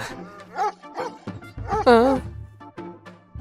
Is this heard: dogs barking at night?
yes